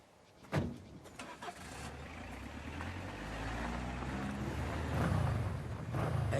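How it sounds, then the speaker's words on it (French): Motorcycle arriving on a street, its engine drone building steadily from faint to loud as it draws near, with a thump early on and a roughening motor rumble. "matez la moto qui arrive"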